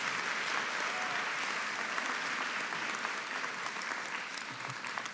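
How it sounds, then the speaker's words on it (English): A graduation ceremony audience gives sustained applause, a thick, even roar of many clapping hands that holds steady for the whole five seconds, a little distant in a large hall. "It's a big round of applause for all our Graduate Certificate in Academic Practice."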